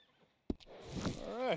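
A horse in Red Dead Redemption 2, a sharp close snort followed by a rising, wavering whinny that grows louder toward the end.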